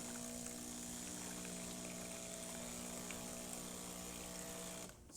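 Breville BES espresso machine, just repaired with a new thermostat, pumping hot water in a steady loud mechanical hum with a tonal whine, running continuously and cutting off near the end.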